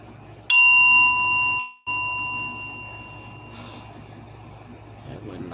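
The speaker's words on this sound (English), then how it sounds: "I'm finna ring my bell." A hand bell rung once, a loud ringing tone that holds about a second before cutting off, followed by a quieter ringing decay over low background noise.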